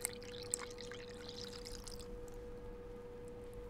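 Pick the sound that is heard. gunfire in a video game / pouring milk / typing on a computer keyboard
pouring milk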